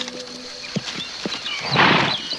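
A horse's hooves clip-clop in a few uneven, soft knocks in an animated series scene, followed by a brief louder rustling burst, with faint background music.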